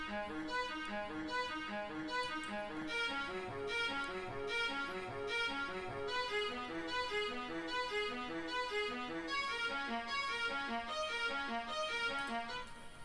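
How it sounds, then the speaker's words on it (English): Reverb-heavy synth arpeggio built in FL Studio Mobile for cinematic film music, a steady cascade of repeating bright notes over sustained harmony, loud and continuous with no talk. "So now we just add an arpeggio."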